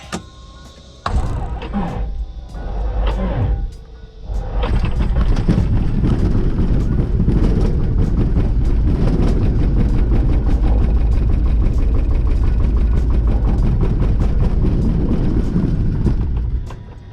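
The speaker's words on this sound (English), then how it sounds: "All right, let's get this engine started." A cold private plane's piston engine cranks with a few uneven coughs, then catches and runs loud and steady with a deep, continuous drone close by.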